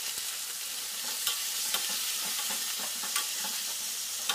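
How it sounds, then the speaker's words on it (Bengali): Pointed gourd (potol) frying in hot oil with bay leaf, a steady close hiss and sizzle with a few soft stirring taps, no talking. "আর তেজপাতা দিয়ে পটলগুলো ছেড়ে দেবো তেল গরম করে।"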